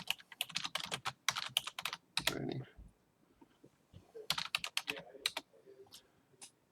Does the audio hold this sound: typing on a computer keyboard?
yes